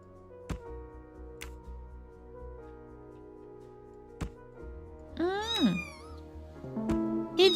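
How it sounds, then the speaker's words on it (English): A cat in the video game Murder on the Orient Express gives a clear, close meow with a rising-falling pitch, then a shorter second one, following a few sharp knocks and clicks. Talk is heard around it. "it's a kitty."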